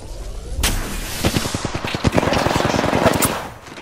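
Rapid automatic gunfire from Gibraltar's weapon in Apex Legends on PS4, a loud, dense burst of repeated shots in quick rhythm that runs for a few seconds before trailing off.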